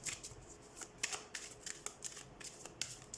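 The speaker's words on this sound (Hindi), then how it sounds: "सबसे पहले हम कार्ड शफल कर लेते हैं" Tarot cards are shuffled by hand for a reading, giving soft, quick papery riffles and taps close by in a quiet room.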